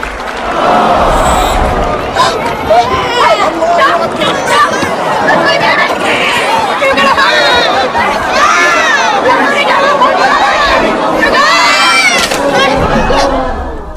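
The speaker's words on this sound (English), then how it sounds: "capturing her mounting panic as the chaotic mob closes in around her" A chaotic mob closes in during a crowd scene in the film Mother, a loud, dense wall of overlapping shouting voices and agitated chatter that never lets up, packed close and frantic.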